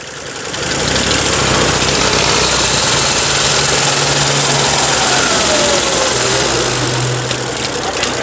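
A vehicle engine roars loudly in first gear, a dense steady drone held throughout with slight rises in pitch as it is revved, close and without talk.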